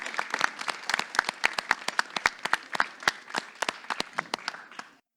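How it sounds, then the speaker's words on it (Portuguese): A small audience at a poetry podcast recording claps, a scattered burst of hand claps that gradually thins out and stops near the end. "Salve de palmas para a Mônica, por favor."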